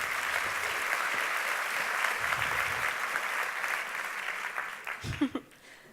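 Warm audience applause after a presentation on writing down patients' life stories, steady clapping that thins toward the end, with a few louder close claps and a brief voice near the finish.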